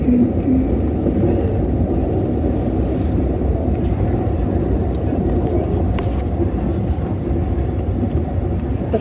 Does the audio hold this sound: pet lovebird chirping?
no